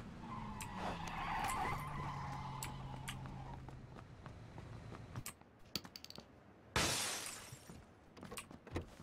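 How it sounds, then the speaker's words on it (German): A car in the PUBG video game drives past and skids, with engine noise building and fading, then a sharp burst of tire and impact noise followed by scattered clicks. "Kommt ein Auto."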